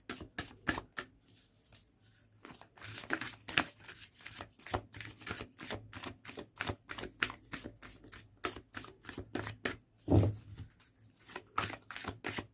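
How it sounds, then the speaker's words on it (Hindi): Tarot cards being shuffled by hand in repeated quick riffling bursts, crisp and close, with irregular pauses between shuffles and no talking. "One last shuffle, otherwise I'll take it out randomly."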